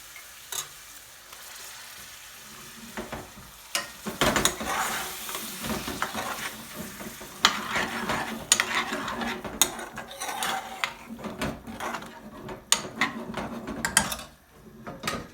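Base gravy poured into a hot pan for a BIR-style chicken Ceylon curry, with steady sizzling and frying under repeated scraping and stirring clatter of a utensil against the pan, close and busy, no talking.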